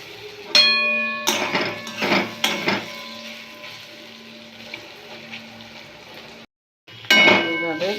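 Chickpea dal being stirred in a pan as it fries until light brown, marked by sharp metallic clinks and scrapes in uneven bursts, with a brief silent gap near the end.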